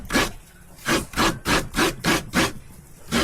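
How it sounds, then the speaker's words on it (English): Coconut is scraped by hand during outdoor cooking in the Philippines, making steady rhythmic rasping strokes about twice a second. The strokes are close and loud, with no voices. "we're still continuing to do the coconut here."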